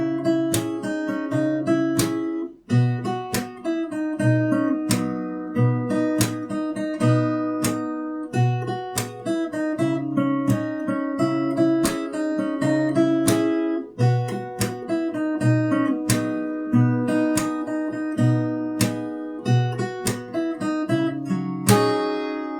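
Fingerstyle acoustic guitar plays a song's melody, mixing plucked notes and sharp percussive strums in a steady rhythm, solo and close with no voices.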